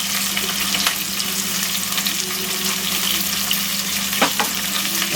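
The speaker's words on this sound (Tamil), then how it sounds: "எல்லாத்தையும் போட்டு கொஞ்சம் நல்லா வதக்கிட்டுங்க" Onion, curry leaves and green chilli sauté in hot oil after mustard seeds pop, for tomato rice; a steady close sizzle runs throughout with occasional scraping stirs.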